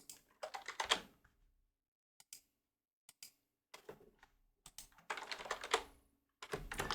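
Computer keyboard typing in quick, close bursts of clattering keystrokes, separated by short pauses and a few isolated taps.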